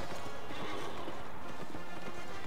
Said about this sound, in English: But this horse is gonna freak out in a minute.